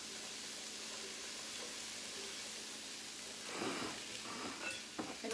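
Mushrooms with green and yellow vegetables cook in a pan with a soft, steady sizzle and hiss, with a few brief stirring and scraping sounds toward the end; no talking.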